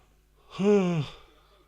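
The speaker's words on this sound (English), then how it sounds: "You're gonna get used to me yawning." A single person yawns once, a drawn-out breathy vocal sound of about half a second that swells and then fades, close and fairly clear in an otherwise quiet setting.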